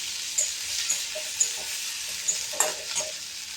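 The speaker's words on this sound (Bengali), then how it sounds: "তো পেঁয়াজটাকে আবার একটু ভাজবো" Onions frying lightly in a pan give a steady high sizzle, with a few sharp stirring scrapes and clicks at intervals, close by and alone with no talk.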